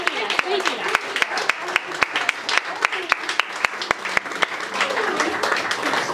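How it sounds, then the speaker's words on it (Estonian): An audience claps in a sustained round of applause at a hoedown-style event, with sharp individual claps over a steady crowd wash and a voice speaking faintly underneath. "Suur aplaus ja veel kord suur tänu."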